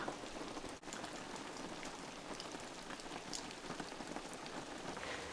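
Steady rain falls through an autumn night in the Pacific Northwest, a dense, even hiss of drops on surfaces with a brief dip near the start, continuous and close with no voices.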